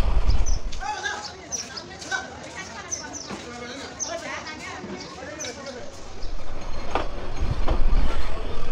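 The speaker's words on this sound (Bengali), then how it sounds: "চলে গেল পার্বতীপুর থেকে চলে আসছে এই ট্রেনটা" A Lalmoni Express train in Bangladesh, arriving from Parbatipur, rumbles along with a steady rattle and clatter of rail cars. The rumble swells louder toward the end, with people talking over it.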